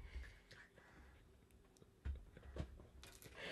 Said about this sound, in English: All I hear is a crunch.